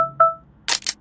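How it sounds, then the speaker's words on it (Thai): Close-up camera shutter firing, a sharp double mechanical click of a single-lens reflex camera after a brief electronic beep, heard alone with no talking. "แล้วเราก็ตั้งชัตเตอร์ไว้"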